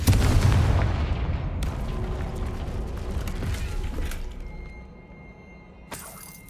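Confringo spell explosions in the video game Hogwarts Legacy burst loudly with a heavy rumbling blast, then crackle and clatter with debris as the roar slowly fades, and a second sharp impact comes near the end.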